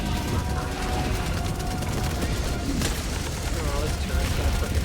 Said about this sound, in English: Oh, this turret's gonna frickin' wreck me.